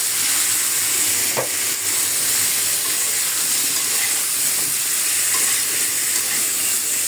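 Vegetables lightly frying in hot oil in a pan, giving a constant loud hissing sizzle with an occasional stirring scrape.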